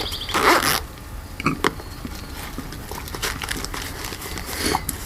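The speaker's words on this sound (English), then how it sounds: "and it will zip up" A cheap backpack pouch's zipper is pulled shut in a few rasping bursts, close and fairly loud, mixed with fabric rustling and handling noises.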